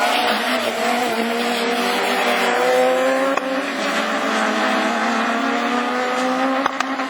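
A Super 1600 rallycross car's new engine roars and revs hard at a French championship race in Mayenne, its pitch rising and falling as it accelerates, with tires squealing through the run.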